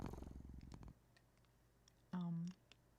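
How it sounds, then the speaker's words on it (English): A cat in a video game purrs sleepily for about a second as a low, rapid rumbling, then a short tonal cat sound follows after a pause. The whole passage is quiet. "you listen as the cat pads over to you before laying down and purring sleepily"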